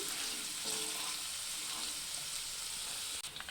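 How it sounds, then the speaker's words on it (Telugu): Spices tempering in hot oil over a low flame for a ripe red chilli pickle, a soft continuous sizzle and crackle that stays even and gentle throughout, heard alone. "ఈ విధంగా పోపు అనేది సిమ్లో పెట్టుకొనే చేసుకోవాలి"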